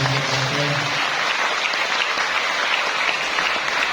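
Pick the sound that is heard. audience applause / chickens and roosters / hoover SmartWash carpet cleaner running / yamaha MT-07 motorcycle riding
audience applause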